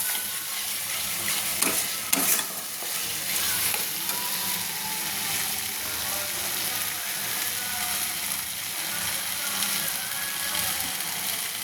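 Spice masala with Kashmiri chili powder sizzling in oil in a pan for an egg curry, a dense, steady frying hiss with occasional scraping stirs, close and continuous with no talk.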